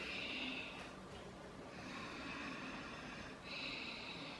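Long, audible breaths during a dynamic yoga flow, airy and close, with a steady hissing exhale that pauses briefly and then resumes.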